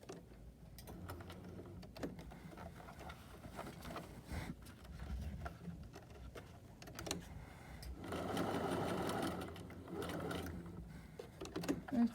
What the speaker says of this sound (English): I'm sewing my box like 1/8 of an inch from the edge here